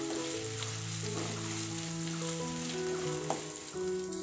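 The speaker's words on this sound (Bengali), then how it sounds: "লঙ্কা কুচি দিয়ে দেব। এবার খুব ভালোভাবে ফ্রাই করে নেব।" Chopped chilli and onion frying in a pan, a soft steady sizzle under background music, with one brief clink near the end and no talking.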